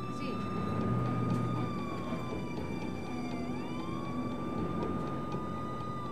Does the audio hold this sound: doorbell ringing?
no